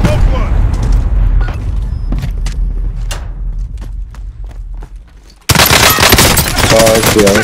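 Rapid gunfire from Call of Duty: Modern Warfare, sharp bursts and single shots ringing out amid heavy game ambience, cutting off briefly before a loud wash of noise returns; people talk excitedly over it.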